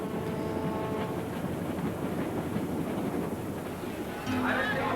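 Train climbing a mountainside in Ecuador, a steady low rumble and rolling mechanical drone throughout, with a voice speaking over it and a brief sharper tone near the end.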